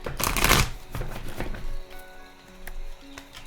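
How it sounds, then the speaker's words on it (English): Tarot cards being shuffled close up, a loud riffling burst at the start followed by softer flicks and shuffles of the deck. "I'm going to give it one more good shuffle here"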